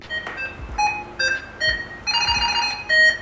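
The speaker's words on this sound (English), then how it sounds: "If you sound the alarm to try to find the tracker tag, this is what it sounds like." A Samsung Galaxy SmartTag2 tracker sounds its find alarm, a close, bright electronic chirping melody of short rising and falling tones, repeated in quick bursts with brief gaps.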